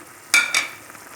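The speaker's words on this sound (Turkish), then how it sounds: "mantarlarımız suyunu bıraktı. Hemen baharatını ve tuzunu ekliyorum" Mushrooms sauté in a pan while spices and salt are added for a vegetable mushroom sauté, heard as a brief sizzle with two quick stirring scrapes close by.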